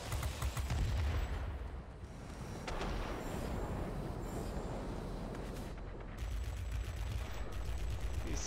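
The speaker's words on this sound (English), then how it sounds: "These guns are really fast firing." Rapid-firing aircraft guns of a Me P.1092 German jet fighter in the video game World of Warplanes rattle in long, loud bursts over a roaring engine drone, with a short pause near the middle.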